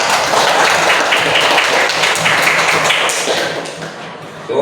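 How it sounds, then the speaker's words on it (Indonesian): Students in a classroom applaud in a dense burst of clapping that stays steady and fairly loud, then thins out toward the end. "Ya, tepuk tangan."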